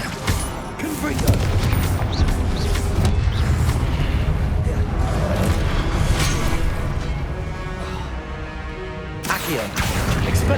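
Confringo blasting spell explosions in Hogwarts Legacy, a loud sustained stretch of booming blasts and crashing impacts with dense combat noise throughout.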